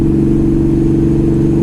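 A Broken Bolt motorcycle with a notoriously loud exhaust runs close and loud, its engine holding a steady, throaty rumble throughout the short stretch.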